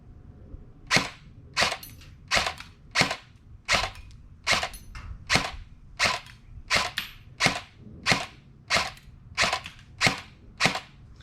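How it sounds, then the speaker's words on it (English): An LCT LC-3 AR airsoft AEG firing in a steady series of about fifteen sharp, evenly spaced shots roughly every two-thirds of a second, close and crisp, with a faint mechanical hum between them. "So I'm getting dry fires quite a bit too."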